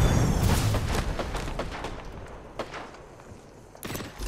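Explosive booms and crackling gunfire echo through an Apex Legends match after a frag grenade is tossed, with several sharp blasts rumbling and fading, then a final burst near the end.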